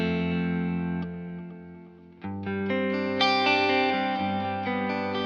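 Electric guitar played through a Keeley Halo Dual Echo pedal with modulation off, sustained chords ringing with echo repeats, a brief dip before a brighter, louder strummed passage that carries on to the end.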